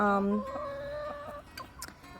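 Chickens cluck and murmur near a garden chicken coop, with one strong tonal call at the start, then softer overlapping clucks and a few sharp peeps at moderate distance.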